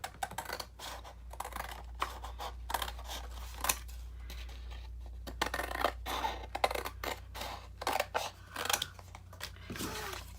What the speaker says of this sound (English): So right now we have this piece right here, which I'm going to go ahead and cut.